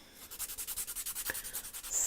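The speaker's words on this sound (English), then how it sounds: "this is just filing" A nail file rubs across dip powder nails in quick, even back-and-forth strokes, about fifteen rhythmic scratchy passes, close and alone.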